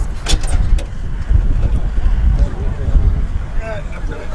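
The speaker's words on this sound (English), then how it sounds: "Midget racer, much modified Ford V8 Kurtis." A midget racer powered by a heavily modified flathead Ford V8 in a Kurtis chassis idles with a rough, loud exhaust rumble, steady throughout with people talking nearby at a classic car and vintage bike show.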